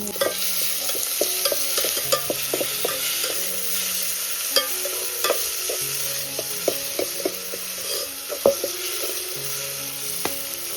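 Onion and tomato frying in a tempering over a village wood-fired stove, a constant sizzle and crackle with stirring clinks and occasional pops, close up, with a faint tonal hum underneath and no talk.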